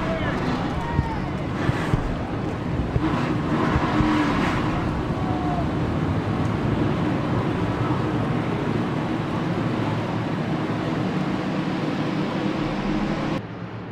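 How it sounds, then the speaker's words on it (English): Race car engines fire up together in the NASCAR Racing 2003 video game at the Toronto Honda 300, a dense, loud, steady roar of many engines that holds throughout and cuts off abruptly near the end. "Drivers, start your engines!"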